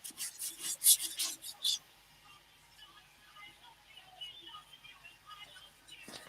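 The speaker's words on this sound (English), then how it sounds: "my skin's so rough, it's sanding the wood" Rough skin rubbing and sanding across wood gives a few loud, bright raspy strokes up close in the first couple of seconds, then fades to faint low scraping.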